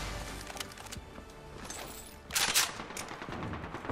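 Gunfire in the video game Apex Legends: steady rapid automatic shots rattle throughout, swelling into a louder, denser burst near the middle and then continuing.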